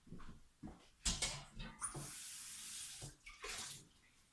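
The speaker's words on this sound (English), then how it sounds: "Immediately rinse out your lye bucket" Water splashes and rinses around a plastic lye bucket after soap making, in bursts of running and sloshing water with brief clunks between, close and fairly quiet.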